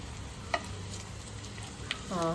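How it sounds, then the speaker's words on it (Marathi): Stuffed bitter gourds (karela) fry in a pan with a soft, steady sizzle, broken by a few sharp utensil clicks and a short scrape at the end. "आता आपण कारली फ्राय झाली काय ती बघून घेऊया।"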